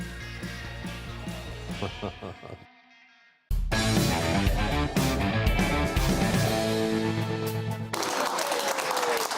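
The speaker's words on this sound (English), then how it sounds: "Let's give them another round of applause" Studio audience applause during a comedy talk show, a dense broadband burst of clapping that dips briefly to near silence, then surges back loud and sustained with music-like tones underneath.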